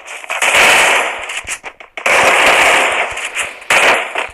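Loud automatic gunfire from the video game Free Fire comes in three long rapid bursts, each cut off abruptly, with short quiet gaps between them.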